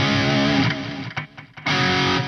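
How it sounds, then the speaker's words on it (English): A guitar runs through the auto chorus effect of a Lexicon PCM70 effects unit, giving a sustained shimmering chord that dips into a short choppy gap before swelling back, loud and close with no talk. "A is auto chorus."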